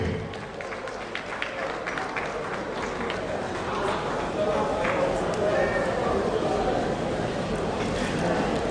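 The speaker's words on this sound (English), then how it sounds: "A round of applause once again for Mrs. Arnold. Keep clapping." Audience applause at a Lagos business gathering, a steady wash of clapping from a crowd that runs throughout and grows slightly fuller, with voices murmuring beneath it.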